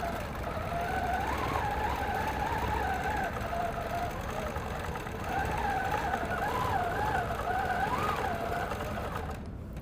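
A sewing machine stitching steadily with a darker thread, a continuous mechanical hum with a wavering whine running at an even pace for nearly the whole stretch, then stopping abruptly at the end.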